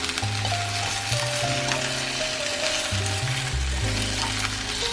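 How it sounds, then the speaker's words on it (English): Eggplant and potato stir-frying in a pan for a Chinese home-cooked dish with green pepper: a steady close sizzle and fry hiss running throughout, with scraping and stirring noises on top. "Stir fry to warm up the potato."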